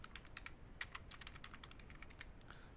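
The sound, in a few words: typing numbers on a computer keyboard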